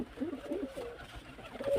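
Domestic pigeons coo softly on a rooftop, low rolling calls repeating several times at a gentle distance over faint background hiss.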